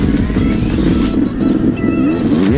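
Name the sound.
Yamaha 250 YZ dirt bike on a track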